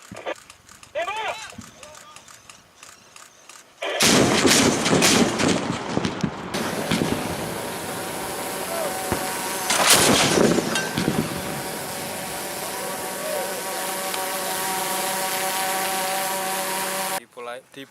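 An Indonesian Army air defence gun of British-French VSHORAD type fires loud, sharp bursts outdoors with clattering repeated reports and a ringing tail, after a quieter stretch of someone talking.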